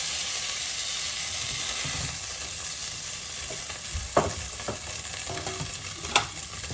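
Chicken pieces sizzle and brown in a hot, smoky pan in a steady, close frying hiss. Occasional stirring scrapes and sharp pops break through the sizzle, and no one speaks.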